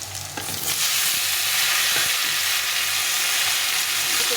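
Pumpkin added to frying potatoes crackles loudly in hot oil while a spatula stirs and scrapes through it, a dense, close sizzle with occasional knocks and no talking.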